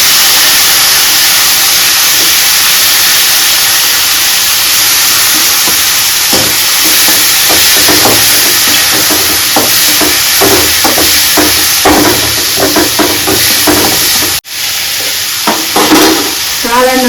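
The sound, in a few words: mushrooms frying in pan for mushroom kulambu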